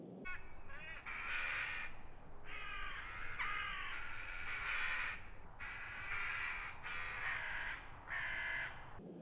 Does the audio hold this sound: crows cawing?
yes